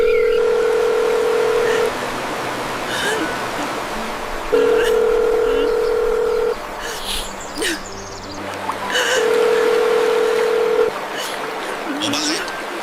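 Telephone call being dialed, heard as steady tone bursts recurring three times at an even pace, each lasting about two seconds, with faint background noise and brief muffled sounds between them.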